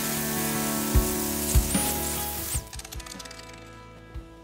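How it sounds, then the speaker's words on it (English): Sanding a Lodge cast iron griddle with 80 grit sandpaper gives a steady, close abrasive rasp, with a few heavier knocks against the thick pan before the scraping thins into lighter strokes. "make it as smooth as we can with this 80 grit"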